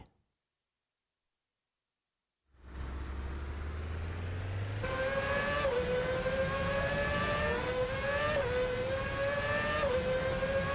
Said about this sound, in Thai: ไดมอนขับรถหนีมาเจอโฮมบอยอีกหรือเปล่า